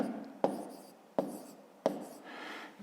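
Pen or marker writing out a math exercise, heard as three sharp taps a little over half a second apart, each trailing into faint scratchy strokes, fairly close and quiet with no talking.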